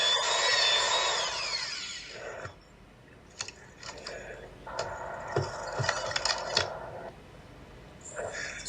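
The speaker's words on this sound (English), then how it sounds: "We drill as deep as possible," A power drill bores deep into a tree, whirring in bursts that start, stop and restart, with a rising whine at first and uneven grinding spurts after.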